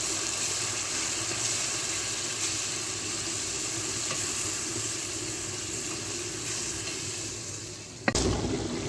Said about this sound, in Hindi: अच्छी तरह से भूनेंगे टमाटर के पेस्ट को भी।